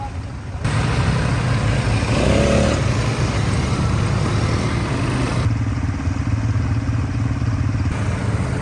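Vehicle engine accelerating on a ride in Bohol, Philippines, a loud continuous rumbling drone close by that holds steady throughout, with people talking over it.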